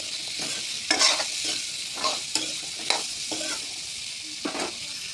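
Drumstick stems and potatoes being mixed with spices in a hot pan: constant frying sizzle broken by repeated scraping stirs of a spoon, close and clear, with no voices.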